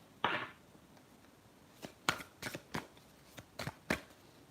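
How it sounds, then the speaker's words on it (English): A deck of tarot-style reading cards riffled and shuffled by hand, a soft opening burst followed by several crisp, quick flutters spaced a fraction of a second apart, close and quiet with no talking. "Just going to shuffle my cards a little bit."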